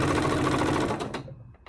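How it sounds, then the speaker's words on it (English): A sewing machine runs steadily while stitching a fabric strip onto tape for a scrappy strips quilt, then stops after about a second with a few light clicks. "I'm going to sew this one on and I'm going to keep going until I run out of tape"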